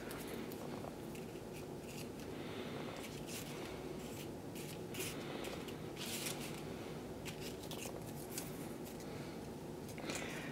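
Scissors snip through paper while freeform cut-outs are shaped, giving quiet, close, irregular crisp cuts and rustles with no talking.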